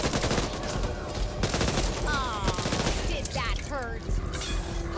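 Chaotic gunfire in the co-op zombie shooter Back 4 Blood, dense overlapping shots with rapid bursts, mixed with growls and shrieking sounds, loud and continuous throughout.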